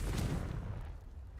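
A Confringo fire spell blast in Hogwarts Legacy, a loud, deep boom with a dense rumbling body that gradually softens over just over a second.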